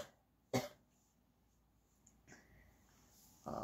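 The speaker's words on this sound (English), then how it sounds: "There's going to be a recording of you coughing on the internet." A single sharp cough from a person near the microphone, followed by quieter throat sounds and a second burst of noise at the end, in an otherwise quiet room.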